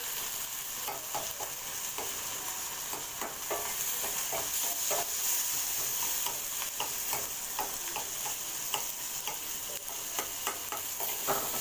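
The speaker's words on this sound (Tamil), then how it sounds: "தக்காளி வந்து இந்த மாதிரி மசிச்சு விடுங்க நான் வந்து மூடி வச்சு வதக்கினேன்" Tomato with ginger garlic paste sizzles in a pan for pepper fish fry, a constant close frying hiss broken by regular stirring and mashing taps throughout.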